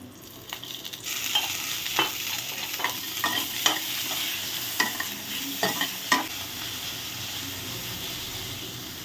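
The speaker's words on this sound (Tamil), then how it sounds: "வெங்காயம் தக்காளி லேசாக எண்ணெய் ஊற்றி வடிக்கணும்" Onions and tomatoes sizzle in oil for a Thanjavur-style mutton curry, a steady loud frying hiss broken by repeated scrapes and knocks of a spoon stirring the pan.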